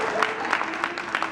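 A comedy show audience in Hawaii breaks into light, scattered clapping, with a few claps standing out over a soft crowd murmur.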